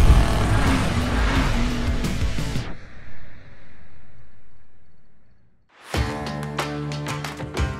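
A 2023 Isuzu MU-X SUV on a test drive, with a loud engine and road roar that drops away into quiet, then returns with a revving surge and clatter.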